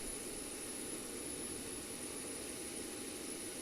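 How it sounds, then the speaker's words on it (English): An aircraft auxiliary power unit runs in the X-Plane 12 flight simulator as a steady, faint turbine roar with a thin high whine, unbroken and with no talk. "See the APU putting out exhaust there."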